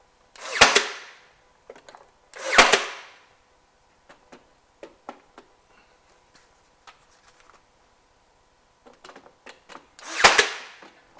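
Nail gun tacking wood ceiling boards, three loud sharp bursts with spacing between them and faint clicks and light handling knocks in the gaps.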